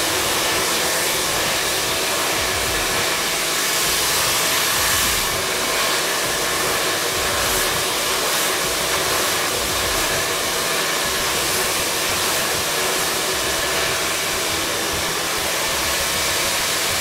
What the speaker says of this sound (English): So the key to this is to really make sure that we dry the roots off thoroughly.